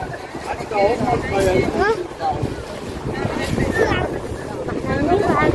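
Gusty wind buffets the microphone at the beach resort of Ras El Bar, Egypt, with surf in the background and people talking over it.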